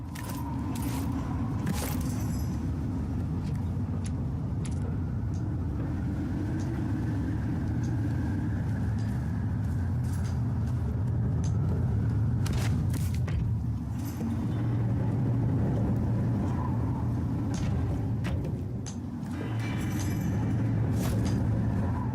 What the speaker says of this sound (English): let's creep along the crevices as the cogs of the tower grind below